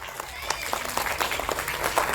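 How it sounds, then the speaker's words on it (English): An audience at an astronomy expo breaks into applause, a dense, moderately loud patter of many hands clapping together throughout, with a voice faintly mixed in. "A round of applause."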